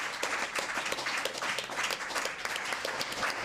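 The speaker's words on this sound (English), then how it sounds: "a big round of applause for our panellists" A room of people applauding a panel at a political meeting on tackling violence against women and girls, a fairly quiet but continuous ripple of clapping that holds steady throughout.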